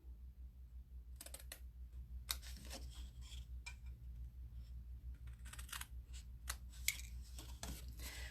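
Scissors snip out small rectangular paper pieces from a long gift box template, a quick series of crisp, close cuts over a low steady hum.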